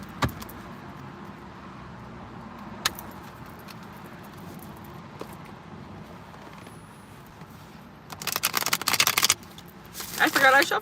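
A deck of tarot cards being shuffled near the end, giving bursts of fast riffling and flicking against a low background hum with a few small clicks before it.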